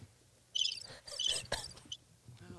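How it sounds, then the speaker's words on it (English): Crickets chirping in rapid, high trilling bursts, fairly close and clear over a faint low background. "So many crickets in this."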